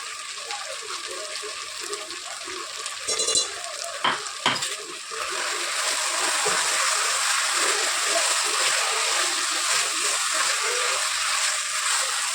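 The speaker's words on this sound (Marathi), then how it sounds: "आता फ्रेंड्स मी यामध्ये टाकणार आहे ही पाण्याची प्युरी." Puree goes into a hot pan for a vegetable pulav with a few quick pouring and scraping sounds, then a steady, bright sizzle of frying that fills the rest of the clip up close.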